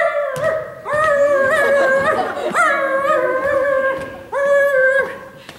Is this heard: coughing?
no